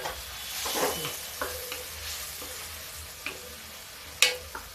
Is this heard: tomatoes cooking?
yes